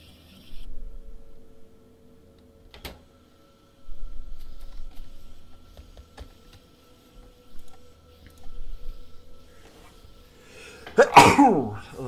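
A single loud, close sneeze bursts out near the end, following long stretches of quiet low rumble and a few soft clicks and taps.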